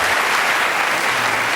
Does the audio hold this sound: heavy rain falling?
no